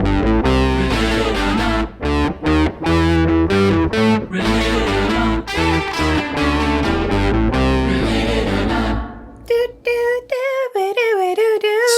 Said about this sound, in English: So much distortion. Just all the distortion.